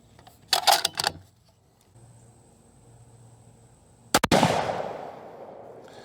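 Two sharp, loud reports from a .264 Win Mag rifle during sighting in: a first crack, then after a quiet gap a second shot with a long rolling echo trailing off outdoors.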